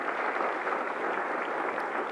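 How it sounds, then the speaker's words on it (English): A crowd claps for the organizers of a high school Hall of Fame ceremony, producing a continuous, even roar of applause that stays loud and uniform from start to finish. "Round of applause for everybody who put this together."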